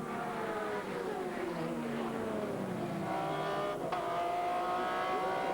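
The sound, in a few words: Porsche GT race car engine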